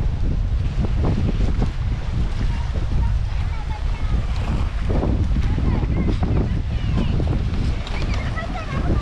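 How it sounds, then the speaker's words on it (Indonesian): Strong wind gusts over a lake during a kayaking expedition on Tasik Kenyir, roaring steadily and buffeting the microphone throughout, with water lapping beneath and someone talking over it. "Angin sangat kuat ni."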